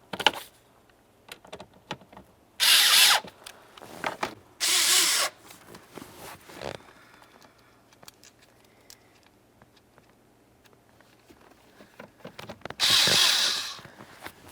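A power tool snugs the blower motor mounting bolts on a 1999-2003 Toyota Solara in three short, loud whirring bursts, separated by quiet stretches of faint handling clicks, close by and with no one talking.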